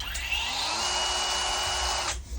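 Cordless GROSSER Revolt 4-in-1 saw attachment motor spinning up to a steady high whine, running loud and close for about two seconds before cutting off.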